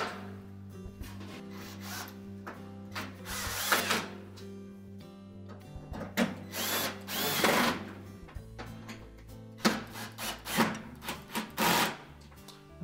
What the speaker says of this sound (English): And then reinstall the retaining screws.